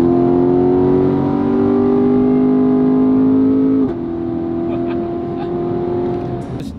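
A C7 Corvette accelerates hard through a tunnel with the windows down, its loud droning exhaust note holding strong for about four seconds before dropping sharply, as at a gear change, then pulling on again.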